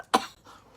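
A single sharp cough, close and fairly loud, followed by a faint breathy trailing sound.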